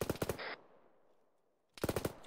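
Video game soldiers fire in rapid automatic bursts, loud and close; a rattling volley stops, a quiet lull follows, then another burst of fire starts.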